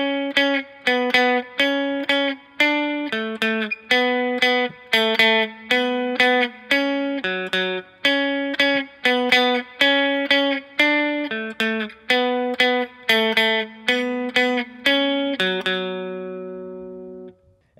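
A clean electric guitar picks a quick, repeating riff, plucked notes and double stops played alone at a steady pace, ending on a ringing chord.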